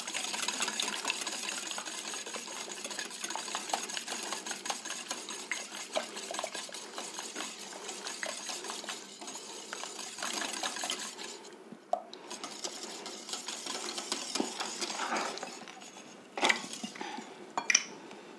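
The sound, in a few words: stirring a cream and egg mixture for a raclette tart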